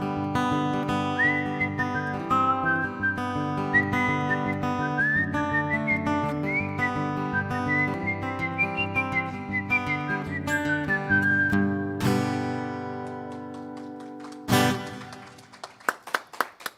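Melodic human whistling carrying the tune of a song at a Sunday spiritual service, accompanied by sustained instrumental chords, followed by a sharp burst and scattered claps near the end.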